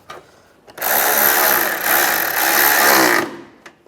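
A power tool drives bolts tight behind the fender flare of a 2007-2013 Mini Cooper during exhaust manifold replacement: one close, steady whirring run of about two and a half seconds, alone, with a short dip midway.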